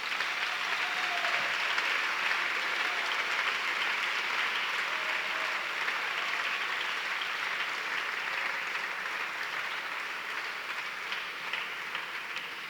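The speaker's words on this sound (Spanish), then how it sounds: "Yo quiero que ustedes den un aplauso fuerte al Señor" A church congregation gives loud, sustained applause to the Lord, a dense, steady roar of clapping that slowly fades a little toward the end.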